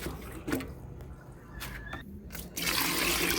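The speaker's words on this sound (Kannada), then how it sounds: "ಇನ್ನೊಂದು ಸ್ವಲ್ಪ ನೀರು ಸೇರಿಸಿ" Water splashes and trickles in short bursts, then a steady, louder stream of pouring water fills the last second, close by.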